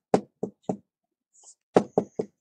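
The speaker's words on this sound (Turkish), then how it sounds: "Kapısı çalsın tak tak tak tak." Knocking on a door: three sharp raps, a short pause, then three more, crisp and close in an otherwise quiet space.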